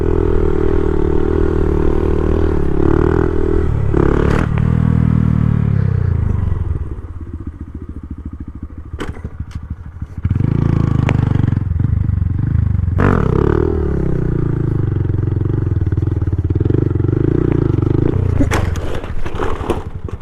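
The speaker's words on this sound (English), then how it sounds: "a little second gear switcheroo" 2021 Honda Grom motorcycle engine revving and shifting into second gear, loud and close, with pitch rising, a drop at the shift, then another climb and a steady roar under light clatter.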